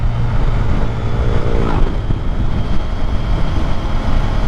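A Triumph Street Triple R motorcycle out on a ride, a loud steady engine drone mixed with heavy wind rush, continuous throughout without speech.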